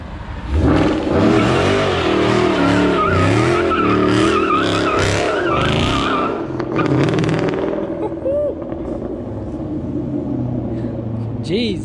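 A Ford Mustang GT with a limited-slip differential does a burnout with traction control off, engine roaring and revving loudly while both rear tires spin and squeal continuously, and people talk over the noise.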